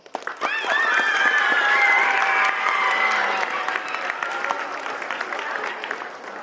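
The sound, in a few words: audience applauding parents at school assembly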